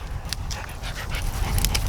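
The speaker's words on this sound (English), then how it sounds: "And it's Mr. J's nephew's dog" A big, heavy puppy pants hard and close after running up, with quick breathy huffs and a faint snuffling, and no voices.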